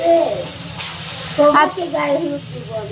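Small mola fish coated in turmeric frying in oil, a bright sizzle running beneath a person talking close by.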